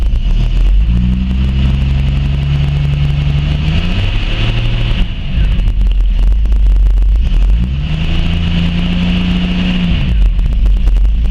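A vintage car engine idles after an ignition repair involving a 6AL MSD unit, loud and close, with two rising-and-falling revs and a steady running drone in between, no talk.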